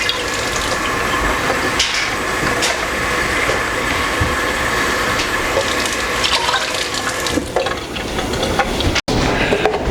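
Water being poured for a pickle brine, a steady continuous stream of running liquid with no gaps through most of the stretch, close and fairly loud, with faint kitchen clatter and a brief cutoff near the end.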